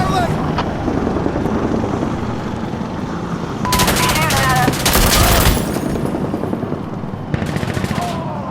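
Loud gunfire in the video game Insurgency Sandstorm: rapid automatic bursts and single shots crackle over a constant helicopter-like rotor drone, with dense bursts near the middle and again toward the end.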